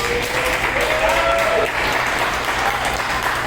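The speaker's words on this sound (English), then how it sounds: "They're clapping it up." Wrestling crowd applauding at a live event while waiting for the bell, with steady, dense clapping filling the whole stretch at a fairly loud level and a faint voice briefly underneath.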